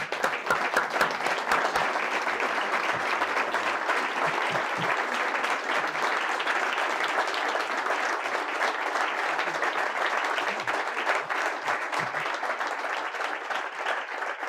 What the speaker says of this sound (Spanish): les pido que podamos darles un aplauso a ellos